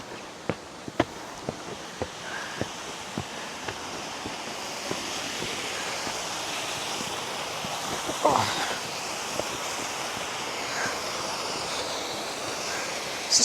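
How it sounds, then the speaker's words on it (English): A waterfall in the Lake District makes a steady, broadband rushing roar that runs unbroken throughout, with sharp clicks and scuffs like footsteps scattered over it. "It's a sick waterfall"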